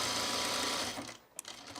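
A sewing machine runs in a fast, steady whir, then stops abruptly as the bobbin thread runs out, followed by a few light mechanical clicks.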